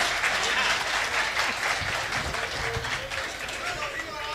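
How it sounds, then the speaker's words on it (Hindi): A crowd at a Hindi kavi sammelan poetry gathering applauds, a continuous wash of clapping with voices and chatter blended in throughout. "एक बार अपने लिए भी जोरदार तालियां बजाइएगा"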